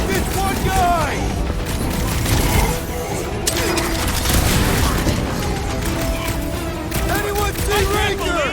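Gunfire from the video game Guardians of the Galaxy, shots and booms popping in bursts amid game effects, with a voice talking over parts of it.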